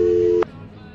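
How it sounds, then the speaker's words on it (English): A flip phone's line tone after dialing: a steady electronic tone holds for a short moment, then cuts off abruptly, leaving a quiet hum behind. "she pulls out a flip phone and dials a number"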